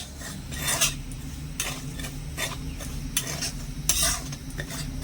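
Rhythmic, close scraping of a spoon stirring semolina as it dry roasts in a pan, with strokes coming roughly every second over a faint low hum.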